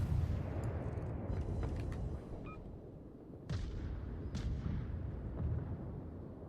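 Warship guns fire at an enemy ship in a naval video game: two sharp, booming reports ring out over a constant low rumble of engine and sea noise.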